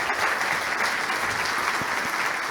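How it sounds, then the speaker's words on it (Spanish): Audience at a panel discussion claps for the panelists, a short burst of dense, even applause at steady volume with no voices over it. "yo diría que un aplauso a los panelistas"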